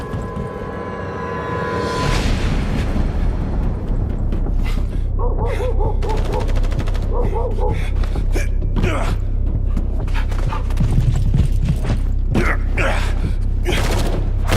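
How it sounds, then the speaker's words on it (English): Rapid bursts of gunfire and loud combat effects fill a game scene, with scattered shots and booms over a steady rumbling background, voices briefly heard. "gunfire."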